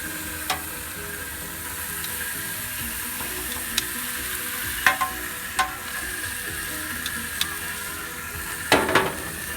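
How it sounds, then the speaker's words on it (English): Butterflied lamb, marinated for hours, sears fat side down on a hot grill with a steady crackling sizzle, broken by scattered sharper pops and a louder burst near the end. "You want to get a really nice sear on that fat side."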